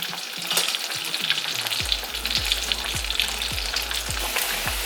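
Garlic frying in virgin olive oil and butter in a pan, a constant close sizzle with a crackling hiss and repeated soft scraping strokes.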